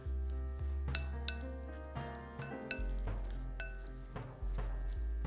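Almond pulp stew with sesame oil and gochugaru being stirred in a pot, with steady sizzling and repeated clinks of a utensil against the pan, close and continuous.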